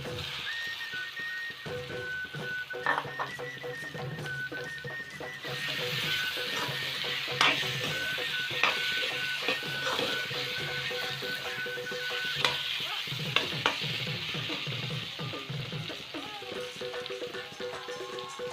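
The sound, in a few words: spices frying and being stirred in a pan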